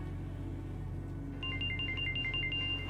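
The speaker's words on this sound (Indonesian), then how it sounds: "Angkat tuh telepon tuh." A phone ringtone plays a bright repeating electronic melody that starts partway in and continues over a low steady background hum.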